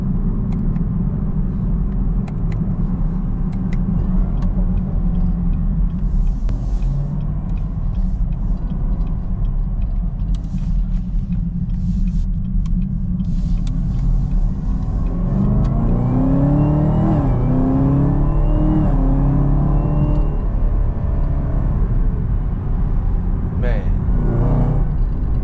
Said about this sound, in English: The Camaro ZL1